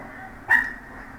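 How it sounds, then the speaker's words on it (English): A single short dog bark, moderately loud and slightly distant, rising briefly over a low background hum. "Oh, these dogs."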